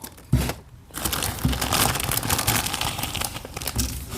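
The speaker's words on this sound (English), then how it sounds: "So that's the bag of sprues that we have. I will just quickly cut it open." A plastic bag of sprues from a Hasegawa 1/72 SEPECAT Jaguar GR.1A model kit is cut open and unpacked, giving loud, close crinkling and crumpling with a few sharp handling knocks, continuous throughout and with no talking.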